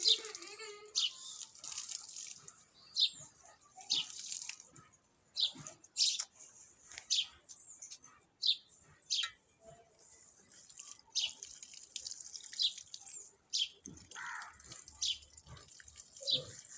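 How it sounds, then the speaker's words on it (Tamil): Evening watering of heat-wilted garden plants: irregular splashes and drips of water land in uneven bursts, fairly close, with short quiet gaps between them and no talking. "அதனால் மாலையிலே இப்போ தண்ணி ஊற்றுறேன்"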